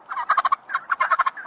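A turkey gobbles in a rapid, loud, close burst of rattling notes, the whole run lasting about a second and a half.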